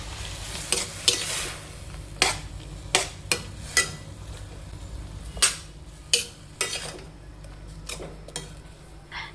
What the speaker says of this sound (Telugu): ఇప్పుడు ఆ ప్యూరీ అంతా దాంట్లో వేసి క్యాప్సికమ్ టమాటా అంతా కలిపి